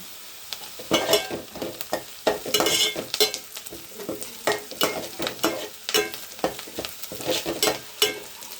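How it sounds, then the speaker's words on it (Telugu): Curry leaves and onions frying in oil, a steady close sizzle broken by frequent sharp crackles and spatters with the scrape of stirring, no voices. "ఆనియన్స్ కొంచెం ఫ్రై అయ్యాయి కదా ఫ్రెండ్స్, తర్వాత కరివేపాకు"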